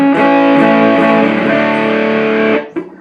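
Electric guitar played through a 77 Fuzz Blender fuzz pedal, a Big Muff-style fuzz with a smoky tone: a loud, thick, sustained distorted chord ringing for over two seconds, then cut off, with a short pick noise after.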